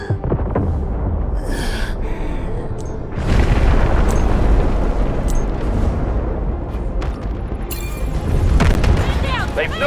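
Heavy artillery shells from a barrage in the shooter game Delta Force burst in deep, rolling booms that swell louder partway through. Radio-style voices and battle noise play underneath the explosions.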